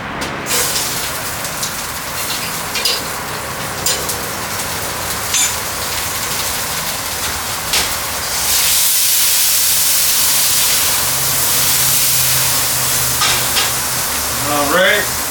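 Butter hits a hot, oiled cast iron pan and sizzles steadily, a broad frying hiss that swells louder and fuller about halfway through and runs alone without any talk.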